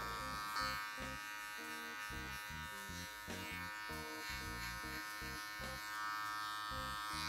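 Electric hair clippers buzz steadily and close up through a barber's skin fade with a natural quiff, the motor drone broken by rhythmic, repeated strokes as the blades clip into the hair on top.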